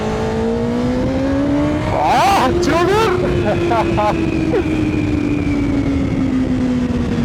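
A Kawasaki ZX6R motorcycle engine drones loudly while riding, its pitch climbing and then sagging, with a short burst of sharp revving in the middle as a man exclaims and laughs over the engine.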